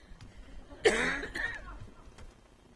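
One raspy cough, close and fairly quiet, in an otherwise hushed city council meeting room.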